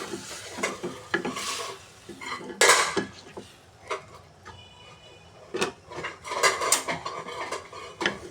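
Meat being reheated in a pot in a home kitchen, with a spoon scraping and clanking against the metal, cutlery clinks and a faint sizzle underneath, arriving in uneven bursts of stirring.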